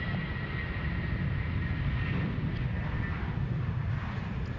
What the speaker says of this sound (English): we will move momentarily over to our Singapore 380 next to land here on runway 16